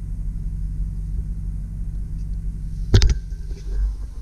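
A 2005 Jeep Grand Cherokee Limited 4WD with 126,000 miles idles after start-up, a steady low engine rumble close by, broken by a short sharp knock or clunk near the end.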